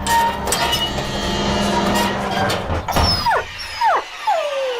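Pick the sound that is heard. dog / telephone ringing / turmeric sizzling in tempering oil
dog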